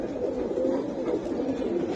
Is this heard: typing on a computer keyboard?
no